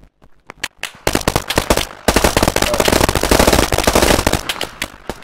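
Rapid gunfire in Operation Harsh Doorstop starts with a few scattered shots, then turns into loud, sustained automatic bursts that run almost without a break, close and sharp.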